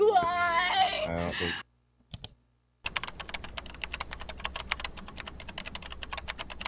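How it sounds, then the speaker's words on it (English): Fast, steady typing on a computer keyboard clatters close and clear for several seconds after a short stretch of talking and a brief pause. "It's a lot of typing."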